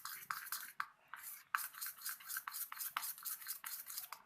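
A spoon stirs dhokla batter with ginger-chilli paste, coriander and garlic chutney in a bowl. The rhythmic scraping and swishing strokes come close and fairly faint, with a few short pauses and no talk.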